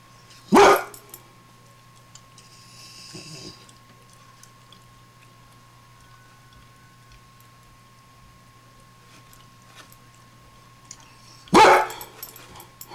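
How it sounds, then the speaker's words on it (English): A dog barks at deer in a backyard, two short loud bursts about eleven seconds apart, with quiet outdoor background between them and no talking. "No, you don't bark at them."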